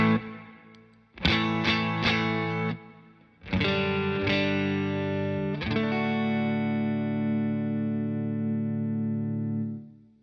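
Electric guitar, a custom shop Strat, played through a compressor pedal with reverb: three bursts of strummed chords, each ringing out evenly sustained, the last chord held long before cutting off, no voices.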